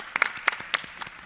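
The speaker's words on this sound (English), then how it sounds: "Another round of applause." A handful of audience members clapping at the close of a medical symposium panel: sparse, separate hand claps scattered over about a second, fairly faint and uneven.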